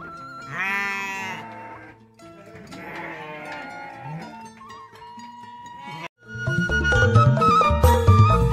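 Sheep bleat repeatedly in a pen, close and fairly loud, with wavering calls overlapping and a denser burst of several animals crying together near the end.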